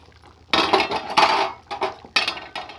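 A metal lid clanks and scrapes against a cooking pot of meat korma with potatoes, several close, sharp clinks and rattles in quick succession.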